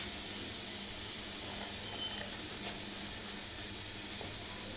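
Boondi batter drops frying in hot oil give a steady, loud hiss that runs unbroken throughout, with a few faint clinks in the background.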